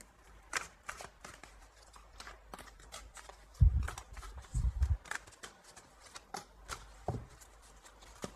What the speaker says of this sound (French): Je vais prendre quelques cartes encore